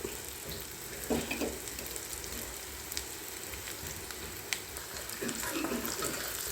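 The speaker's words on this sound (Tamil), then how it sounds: "இந்த மாதிரி பபிள்ஸ் வரணும் பொறிக்கிறப்ப அந்த தண்ணியெல்லாம் வெட்டி இந்த புசு புசு புசுன்னு வருது" Chicken and potato deep-frying in hot oil for a spicy fry, giving a steady, close crackling sizzle with soft bubbling throughout and no talk.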